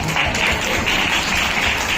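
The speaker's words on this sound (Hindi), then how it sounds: "ताली बजाकर प्रभु को धन्यवाद करें।" Audience at a one-day women's church conference clapping together in thanks to the Lord, a steady, dense wash of applause lasting throughout, fairly loud and close.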